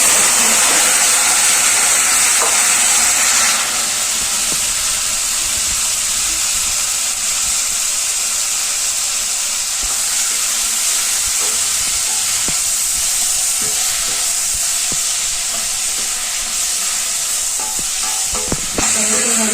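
Onion and tomato frying with mustard seeds, cumin and curry leaves for a village-style South Indian sambar, a loud, steady broadband sizzle running throughout with occasional stirring clicks.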